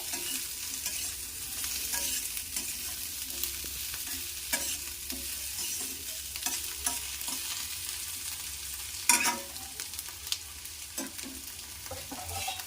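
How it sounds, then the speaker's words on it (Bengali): Potatoes are stirred in a frying pan while cooking a Sapune greens dish, giving a steady close sizzle broken by irregular scraping clicks of the spoon, with no talking. "একটু নাড়াচাড়া করে নেবো ভালোভাবে"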